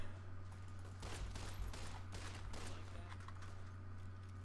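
Gunfire in the Fallout New Vegas video game, a faint burst of several rapid overlapping shots and cracks around the middle of the clip over a steady low hum, no voices.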